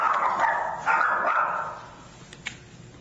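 The neighbors' dogs bark outdoors in a burst of several overlapping yaps and yips, loud at first and then fading, with one or two sharper barks near the end.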